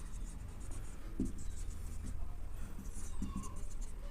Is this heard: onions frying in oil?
no